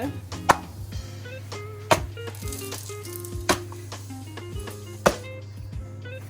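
Veechu parotta dough being thrown and slapped onto a hot griddle: four sharp slaps recur roughly every second and a half over a steady sizzle and kitchen hum, close and clear, with no talking.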